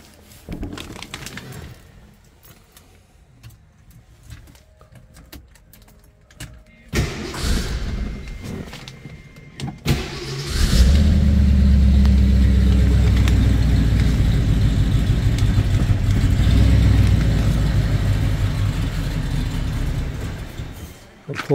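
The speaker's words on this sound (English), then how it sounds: "We'll start the car up real quick." A 1968 Ford Torino GT Indianapolis 500 Pace Car convertible is heard after quiet handling noises and a few thumps, its engine cranking and catching into a loud, rumbling close-up idle.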